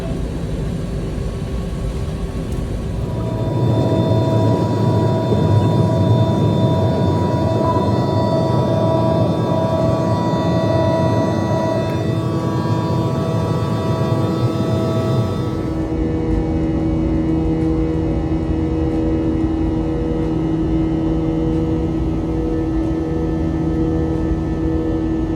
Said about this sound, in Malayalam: നമ്മളിപ്പം ഉള്ളത് ചെന്നൈ എയർപോർട്ടിൽ നിന്ന് ഇപ്പോൾ ടേക്ക് ഓഫ് ചെയ്യും.